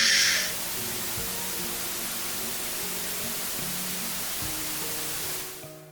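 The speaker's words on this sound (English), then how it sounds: "His speaker suddenly grew louder with the crackle of white noise." Steady hiss of white-noise static crackling from a speaker, loud and even throughout, with a brief brighter burst at the start and a fade at the end.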